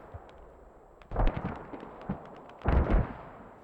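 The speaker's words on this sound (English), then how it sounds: "there's only one mortar being used right now" Mortar fire in the video game Squad during a competitive match: two heavy, booming thuds about a second and a half apart, each followed by a rumbling tail, with quieter distant shots in between.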